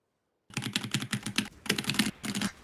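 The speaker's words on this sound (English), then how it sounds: "I've never been able to hear your keyboard before" Rapid typing on a computer keyboard during a game session, close and crisp, with quick runs of key clicks broken by brief pauses and no speech.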